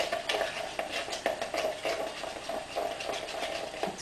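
Linseed mixture stirred with boiling water in a bowl, a quick run of rhythmic wet scraping and swishing strokes, close and fairly loud, with no voice.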